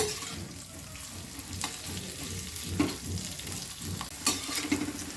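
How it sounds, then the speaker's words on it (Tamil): Bitter gourd pieces frying in oil, a continuous crackling sizzle with occasional scrapes and clanks of a ladle stirring the pan, close and steady. "இதை நம்மளுக்கு கொஞ்ச நேரம் இதிலே இந்த எண்ணெயிலே நல்லா ஃப்ரை பண்ணிக்கலாங்க"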